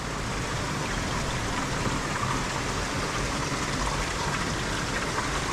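A steady, broadband rush of a flowing trout stream in Western North Carolina fills the scene, constant and close, with no voices.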